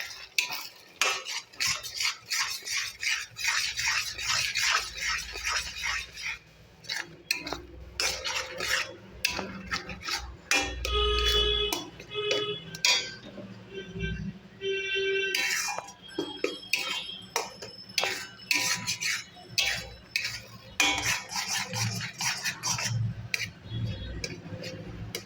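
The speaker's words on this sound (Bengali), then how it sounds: "এরপর এই পুরো মিশ্রণটাকে পুরো একদম শুকনো শুকনো করে ভেজে নেব।" A metal spatula scrapes and clinks against a frying pan as a shrimp and bean paste mixture is stirred and dry-fried over low gas heat, producing rapid irregular rattling strokes with brief pauses, loud and close.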